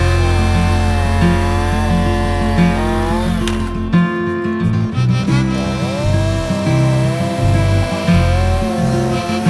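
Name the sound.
chainsaw making a bore cut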